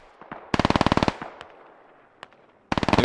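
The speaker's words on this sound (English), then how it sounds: "MG3's firing." MG3 machine gun firing in SquadOps, with two short, rapid, loud bursts separated by a pause and a couple of isolated single shots between them.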